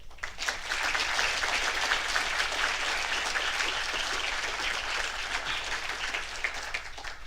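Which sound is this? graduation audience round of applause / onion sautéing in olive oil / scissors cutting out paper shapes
graduation audience round of applause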